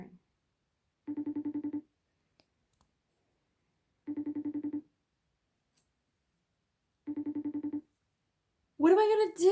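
A phone rings out on a call to a friend, three evenly spaced electronic ring bursts separated by silence, each a short buzzing trill, followed by a brief burst of voice at the end.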